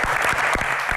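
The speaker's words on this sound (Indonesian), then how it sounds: "kita akan berikan tepuk tangan yang paling meriah untuk Ibu Lestari Murdiat" Steady, dense applause from an audience greeting Ibu Lestari Murdiat (Ibu Reri) at an evening Q&A event, filling the whole short moment at an even, full level with no voices rising above it.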